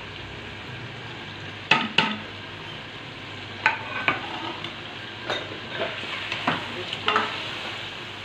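Spices being stirred into a pumpkin and chicken curry in a pan, with scraping strokes of a spoon over a steady sizzle and a brief spoken word.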